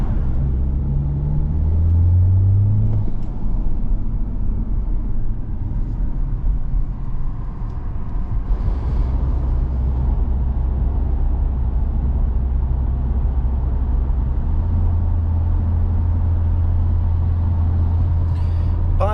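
BMW 330d with an N57 diesel engine idling and warming up, a steady deep rumble with a brief rising rev early on, then settling into a low, constant drone with a slight lift in pitch near the end.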